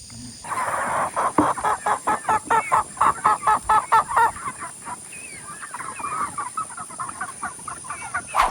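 Chickens, ducks and a rooster cluck and honk in a rapid, steady chatter close by, a lively flock sound that carries on without talk.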